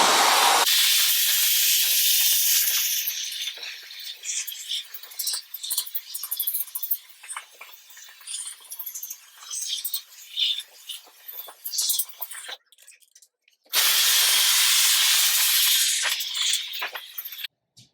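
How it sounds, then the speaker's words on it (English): A hair dryer runs at high pressure through a narrow nozzle, blowing a steady airy hiss that dips and flutters as it moves, cutting off briefly before roaring back on strongly. "I'm using my hair dryer in medium heat, high pressure, and high pressure with a narrow nozzle"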